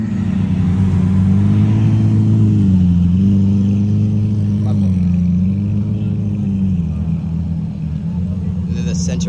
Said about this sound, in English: Right now, the cars are just coming through.